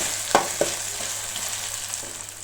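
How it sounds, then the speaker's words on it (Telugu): Drumstick pieces frying in hot oil with ginger paste, giving a steady close sizzle with two sharp knocks near the start and softer stirring taps later, with no speech. "ఇప్పుడు ఇందులో ములక్కాడ ముక్కలు ఒక 2 వేసేసుకోండి. ఇవి కూడా కొంచెం పచ్చివాసన పోయే వరకు ఆ ఆయిల్లో అల్లం పేస్ట్లో కొంచెం ఫ్రై చేసుకోండి"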